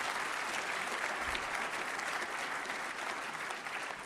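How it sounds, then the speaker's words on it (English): Audience at an investment summit applauds a moderator, a broad, even roar of clapping heard from a moderate distance and holding steady throughout. "Can we have a round of applause for Lucy"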